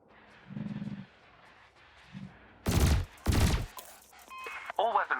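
Ship weapons in the space game Elite Dangerous fire at floating canisters, two loud bursts of rapid gunfire standing out sharply after quieter game tones and an electronic chirp at the end.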